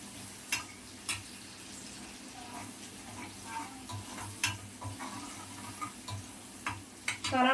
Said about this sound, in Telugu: ఆనియన్స్ మంచిగా ఫ్రై అవ్వాలి.